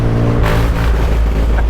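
Loud, close engine burble of a 1949 Chevrolet Deluxe in second gear, a steady low-pitched rapping exhaust rumble with a brief rise in intensity, heard from within or beside the car with no talking.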